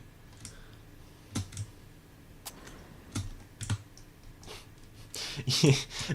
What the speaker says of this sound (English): sometimes I'll just hear this very quiet clicking noise in the middle of my music as I'm typing up things on the side